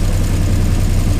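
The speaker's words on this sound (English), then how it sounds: "This is a serious hovercraft" A UH15-P hovercraft with a Rotax two-stroke engine runs loud and close. It gives off a steady, heavy droning roar with no breaks and no voices over it.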